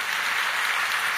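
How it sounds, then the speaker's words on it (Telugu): A church congregation claps, a brief, dense burst of steady applause filling the room at moderate loudness. "చప్పట్లు కొట్టి దేవుని మహిమపరచు గట్టిగా హల్లెలూయా."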